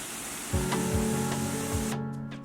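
Harrison Wright Falls, a 27-foot waterfall in Ricketts Glen State Park, gives a steady, full rushing roar of falling water that stays even and continuous from start to finish.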